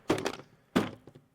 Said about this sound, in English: the only way to truly tell if the Switch 2 screen is going to scatter into bits if we shatter it is if we shatter it